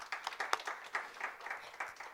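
A room of attendees at a community college entrepreneurship press conference applauds for a person being thanked. The clapping is quiet and somewhat distant, a short spread of uneven hand claps with no voices over it.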